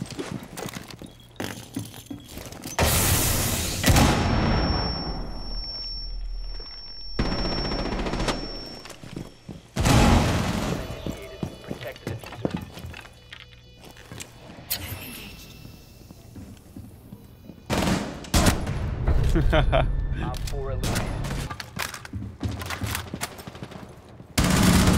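Gunfire in Rainbow Six Siege comes in loud, rapid automatic bursts separated by quieter gaps, alongside clattering footsteps and other movement sounds.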